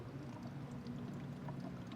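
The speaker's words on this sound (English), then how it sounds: "Drain the coolant." Milky coolant draining from the radiator of a Holden Commodore VE, a steady faint pouring and trickling wash of liquid, continuous and alone.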